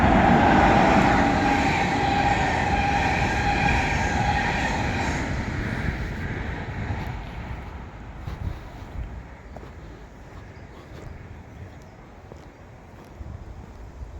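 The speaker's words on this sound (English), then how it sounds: "There's the train." A train passes nearby, starting as a loud rumble and rattle of wheels that fades steadily into the distance until only a faint rolling sound is left.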